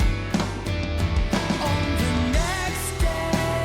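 A processed kick drum pounds out steady, punchy low hits inside a dense full mix, loud and continuous from start to finish.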